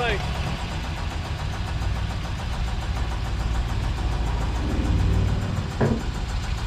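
An abandoned 1967 Ford Galaxie 500 engine rumbles and idles steadily at close range while people talk over it, with a brief clunk near the end.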